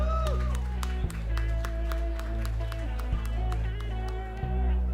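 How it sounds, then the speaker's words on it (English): Applause from the audience for the nominees at the Malaysia Rice Bowl Startup Award 2018 ceremony, steady and sustained under loud stage music with a few sharp beats. "let's give our nominees a big round of applause."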